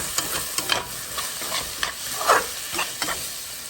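A spoon scrapes and stirs through a vegetable biryani mixture in a pot, soft irregular scrapes over a faint background sizzle, no voices.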